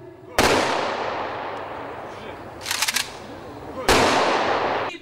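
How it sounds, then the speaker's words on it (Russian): A ceremonial rifle volley salute for Victory Day in Khakassia rings out outdoors: two loud, sharp, simultaneous blasts several seconds apart, each followed by a long echoing decay, with a brief rattling burst in between. "В честь подвига народа-победителя прогремел и оружейный залп."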